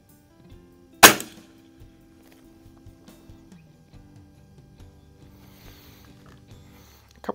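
A single sharp crack from a Ruger Airhawk .177 break-barrel air rifle, fired on an outdoor range at 25 yards. The close, loud snap stands alone against quiet background, followed by faint handling noises.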